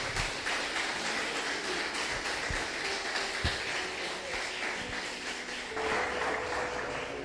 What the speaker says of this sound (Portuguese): As palmas saudam nosso grande Senhor Jesus